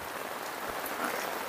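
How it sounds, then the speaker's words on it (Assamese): Steady heavy rain pours down without pause on a farm after two days of storms, a dense, even hiss with soft low patter, close and continuous with no voices. "দুদিনৰ পৰা আমাৰ ইয়াত নেৰানেপেৰা বৰষুণ, যেনেকুৱা বৰষুণ তেনেকুৱাই বতাহ"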